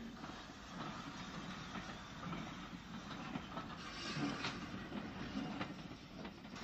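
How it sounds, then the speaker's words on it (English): A vintage Southern Railway steam train from Dunton Green rolls into a small branch-line halt, with a steady, fairly close rumble, wheel clatter and a soft hiss running throughout and no voices. "A train from Dunton Green arrives and pauses optimistically for passengers."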